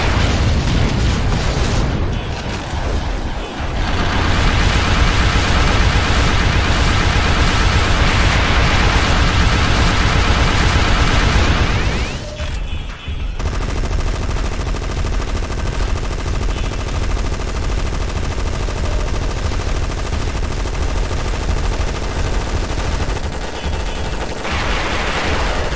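Intense combat in the PC game GunMetal (2003), with enemy tanks attacking dropships: dense, continuous gunfire and rolling explosions fill the mix, broken by one brief lull midway before the barrage resumes.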